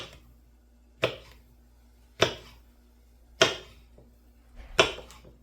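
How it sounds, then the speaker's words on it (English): A knife cuts through nopales into rectangular pieces on a board, four sharp, evenly spaced chops about a second apart, close and crisp against a quiet background. "what I will do is slice the nopales and make some"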